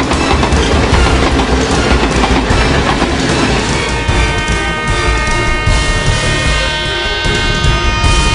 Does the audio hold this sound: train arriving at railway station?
yes